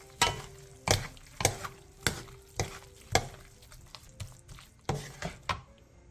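Perilla seed powder, mushroom powder and minced garlic are stir-fried in a pan, with a soft sizzle beneath regular, evenly spaced spatula strokes roughly twice a second, close and quiet, with no talking.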